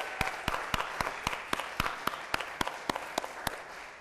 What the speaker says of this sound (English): How about a big round of applause, and let's kick things off this morning.